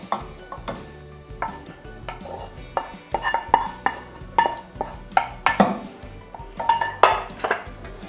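Stir-fried pickled mustard greens being tipped into a pot of pork belly: irregular clinks and knocks of a utensil against cookware, close and clear, with soft scraping between hits.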